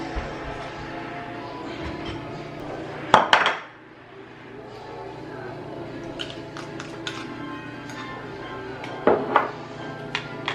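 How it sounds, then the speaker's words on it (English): Utensil scraping and clinking against a bowl while ingredients are stirred with a little vinegar, steady low clatter with a couple of sharper knocks, under faint room noise. "Stir it together really good"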